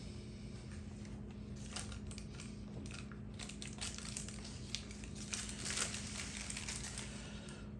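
Soft crinkly crackling and light taps as a knife cuts through a caramelized Basque cheesecake, close and fairly quiet, with irregular bursts over a steady low background hum.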